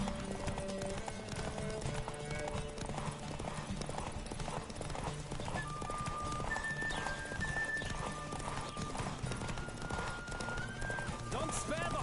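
Horse galloping in The Witcher 3 during a horse race, with steady rapid hoofbeats and an occasional whinny, loud and close under game music and a voice.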